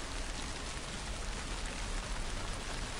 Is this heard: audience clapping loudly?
no